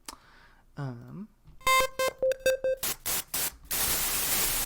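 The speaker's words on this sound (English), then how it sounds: "White noise." A run of synth bleeps and tones in a staccato rhythm from music production software, ending in a loud, steady burst of synthesized white noise hiss.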